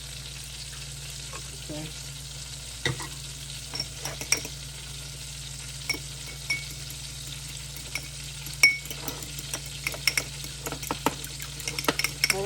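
Chicken cutlets in a honey sauce made with Sweet Baby Ray's finish cooking on a stovetop, giving a steady soft sizzle with scattered crackles and stirring clicks throughout, and a brief spoken word near the start.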